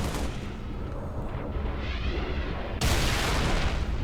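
Dense, continuous gunfire and booming battle noise from a Halo Reach campaign mod, steady throughout and jumping sharply louder near the end as heavier firing kicks in.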